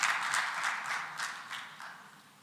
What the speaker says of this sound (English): Another round of applause for yourself.